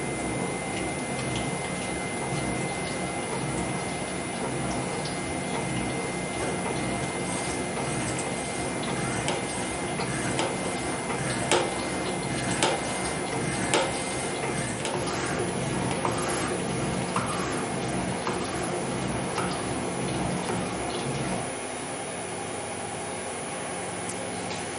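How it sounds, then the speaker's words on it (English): A small multi-function machine takes a heavy cut with a tool set near 45 degrees, giving a steady, dense grinding and chattering hum that runs continuously at moderate level before easing near the end. "this is a very big cut for this small machine"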